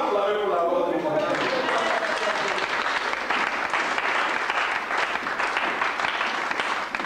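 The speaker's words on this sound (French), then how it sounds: "Est-ce que nous pouvons acclamer pour la gloire de Dieu?" A church congregation applauds and cheers during a French-language sermon, a dense, steady wash of clapping that swells in the first second and holds loud and full throughout, with voices mixed into the crowd noise.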